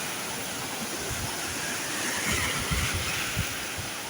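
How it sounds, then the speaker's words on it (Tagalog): High monsoon-driven sea waves crash along the shore, a steady broadband roar of surf with slightly heavier surges midway, continuous and without speech. "Mataas talaga mga alon mga kumangkaw."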